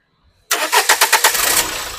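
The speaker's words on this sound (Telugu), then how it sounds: "మళ్ళీ ఒకసారి ఇంజన్ ఆఫ్ చేసి మళ్ళీ స్టార్ట్ చేసి చూపిస్తా అండి" A 2016 Renault Duster RXS engine cranks in a quick burst of about six rhythmic turns after brief silence, then catches and settles into a steady close idle, with no talk.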